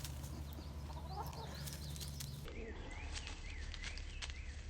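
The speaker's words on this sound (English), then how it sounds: "That's a pretty chicken." Backyard chickens on a farm cluck and chirp in short bursts over steady outdoor background noise, fairly close, with no talking.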